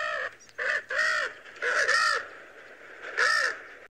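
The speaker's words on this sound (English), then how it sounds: "You want to know what a spoonbill sounds like? Well, I just happen to have my bird app open, so I'm going to play it for you." Spoonbill call played back from a bird app: harsh, crow-like caws, five or six loud rasping calls in an uneven series with brief gaps, heard alone.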